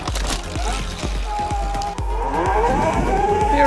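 An Alta Redshift electric dirt bike rides past with a quiet motor whine rising in pitch, mixed with rhythmic knocks and tire noise over rough ground and a swelling whir toward the end.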